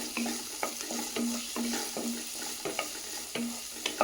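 Raw green peas for a vegan tofu matar gravy cook in a hot pan, giving a continuous sizzle punctuated by regular spatula clicks and scrapes against the metal.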